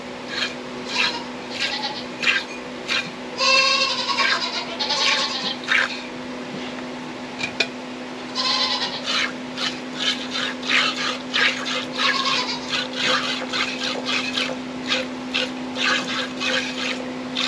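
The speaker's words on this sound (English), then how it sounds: "So I'll be pinching around at the udder, a little bit above the teat, to fill the teat with milk, and then get that milk exiting." Hand-milking a dairy goat, with milk squirting from the teat in steady rhythmic bursts and soft rubbing and splashing sounds, close up, with a steady low hum underneath and no talking.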